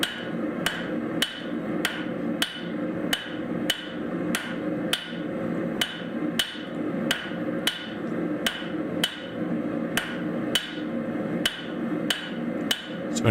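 Hammer blows on hot metal at an anvil while forging a taper, a steady run of about twenty sharp ringing strikes roughly every two-thirds of a second over a constant background hum, close and fairly loud, no talking.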